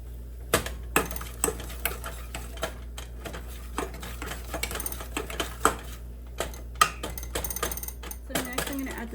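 Ground beef with tomato bouillon and jerk seasoning being stirred and broken up in a pan for crispy beef tacos: irregular sharp clicks and scrapes of a utensil against the pan, some spaced, some in quick clusters, against a low hum.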